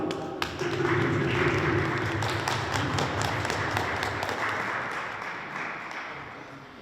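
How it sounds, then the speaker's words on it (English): An audience at a Togo flag-raising ceremony claps and applauds steadily for several seconds, a dense, sustained patter of hands that slowly fades toward the end, with no speech over it. "A few rounds of applause, please."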